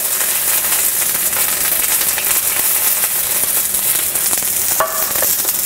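Green onions sizzle loudly in a hot pan while cooking Mongolian chicken, a steady broadband frying hiss throughout with a few brief clinks and stirring sounds near the end.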